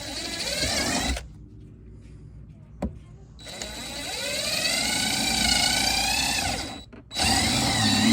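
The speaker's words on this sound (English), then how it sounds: "Pull back the vinyl and drill a hole." A power drill whines steadily, rising and falling in pitch, with brief pauses between bursts, drilling small holes through vinyl; close and fairly loud.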